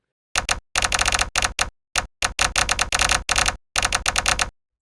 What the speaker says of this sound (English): type exactly what I want as my replacement text